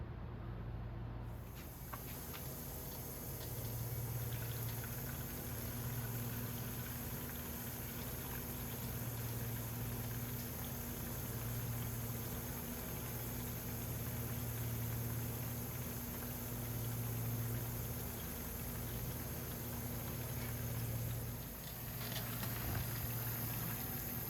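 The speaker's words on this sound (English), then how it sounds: "I'm just gonna run the pump and let it pump out the bad fuel itself." Electric fuel pump on a Lotus Esprit pumping out bad fuel, a continuous hissing, gurgling whir with a slow rhythmic pulsing over its length, close and moderately quiet, with no talk.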